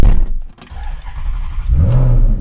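A Maserati engine rumbles loudly and rises in a brief rev near the end, with thumps and a jangle of keys mixed in.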